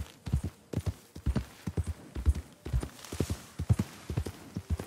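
Hooves of a horse in the video game Red Dead Redemption 2 clip-clop in a steady, even walking rhythm, loud and close, with no talk over them.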